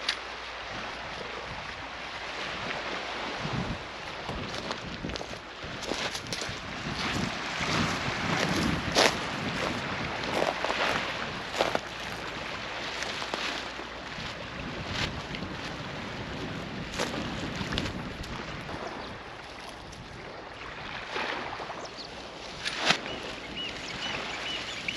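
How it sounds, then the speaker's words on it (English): Steady wind roars across Ackergill Beach in Caithness, Scotland, gusting and buffeting the microphone, with faint surf underneath and no voices. "Still a bit windy"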